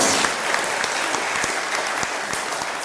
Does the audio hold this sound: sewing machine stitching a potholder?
no